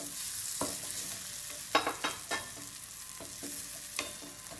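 Onions cooking in a pan give a soft, steady frying hiss, with a cluster of spatula scrapes and taps near the middle and a few more later.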